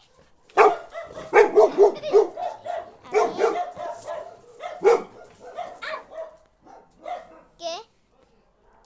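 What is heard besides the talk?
dog barking loudly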